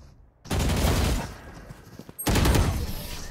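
Gunfire in the video game Valorant, two loud bursts of rapid shots separated by a brief pause, close and dominant with no talking.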